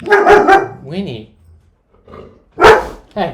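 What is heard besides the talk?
dogs barking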